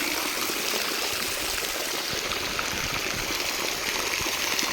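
Stream water flowing down through a village jungle, a steady broadband rush and trickle that runs evenly and fairly close throughout, with no talk.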